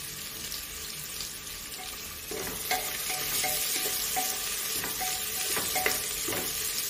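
Green chillies stir-fried in a pan for a restaurant-style cashew and pea pulao, with a steady close sizzle and the scrape of a spatula stirring, a few sharper clinks toward the end, no voices.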